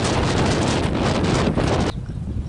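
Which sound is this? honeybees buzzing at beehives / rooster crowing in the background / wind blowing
wind blowing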